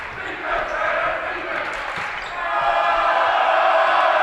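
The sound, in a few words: basketball home crowd making noise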